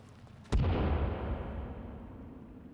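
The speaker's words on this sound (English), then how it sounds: "I'm going to chuck a grenade." A grenade blast in the Sons of the Forest survival game: one sudden, loud, deep boom that rolls on and slowly fades over a couple of seconds, with no talk over it.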